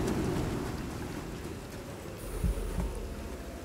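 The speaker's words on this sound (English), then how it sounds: "There's a storm going on over there." A thunderstorm brings a steady wash of heavy rain with a low rumbling underneath, and a couple of deeper thuds rise briefly near the end.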